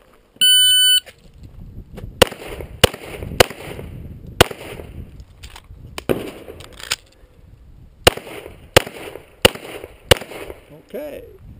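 Sharp, loud pistol shots at a USPSA action pistol match, fired in spaced groups of single cracks with pauses between strings, plus a brief electronic start-timer beep at the beginning and some low background chatter.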